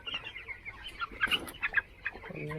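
Broiler chickens in a poultry shed clucking and squawking in short, irregular bursts, fairly close but quiet, over a low steady background hum.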